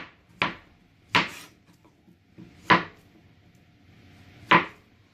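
A knife chopping food on a board while preparing Caribbean oxtail dishes, four distinct sharp cuts at uneven intervals, close and clear over faint kitchen background.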